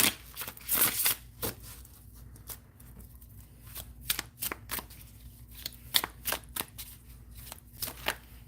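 Tarot cards being shuffled, a run of sharp riffling snaps and soft flutters that is dense early on, then sparser, close and fairly quiet with no talk over it.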